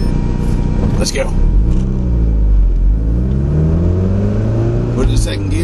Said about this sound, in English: Put it in second gear. Pedal the metal.